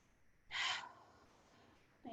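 One quick, sharp breath in during a breathing exercise after a morning workout, close and brief, followed by quiet and the start of another breath at the very end.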